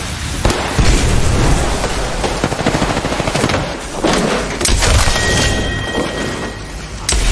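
Loud, dense gunfire from a video game shootout in Apex Legends, including Kraber sniper rifle shots, with heavy booming reports and crackling bursts filling the whole stretch.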